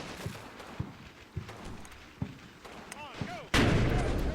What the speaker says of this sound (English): But yeah, that AT gun is firing away.